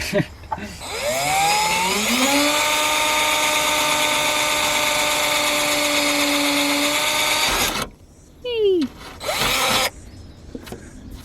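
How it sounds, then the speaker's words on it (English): A cordless drill whines up to a steady high-pitched spin for several seconds, stops, then gives two more short bursts as it bites into a van. "just going to drill it and hopefully it's the right point"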